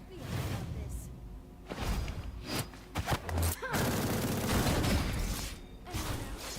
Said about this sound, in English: I guess you can machine gun them now